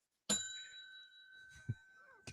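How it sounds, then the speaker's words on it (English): A desk bell is struck once, giving a bright, clear ding that rings on with a long, slowly fading tone. A soft thump and a faint voice come through as the ring dies away. "You actually have a physical bell on your desk."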